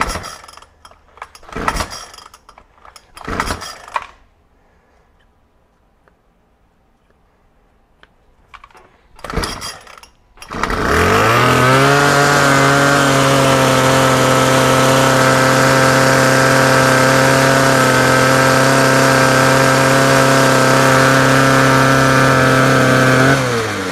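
Troy-Bilt TB25PS 25cc gas pole saw: several sharp pull-cord tugs with quiet gaps, then the small two-stroke engine catches and runs steadily at a loud, buzzing high idle until the end.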